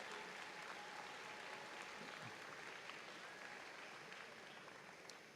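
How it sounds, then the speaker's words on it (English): A commencement crowd applauds the standing faculty with steady, even clapping that sounds distant and fairly faint, holding level for several seconds. "Let's give them a big round of applause."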